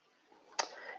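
A computer mouse gives a single sharp, faint click in an otherwise quiet room.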